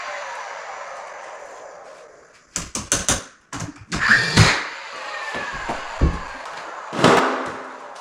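Several sharp pneumatic bangs in quick bursts as a nail gun fires nails into wooden door casing, with clattering handling noise between shots over a steady background hiss.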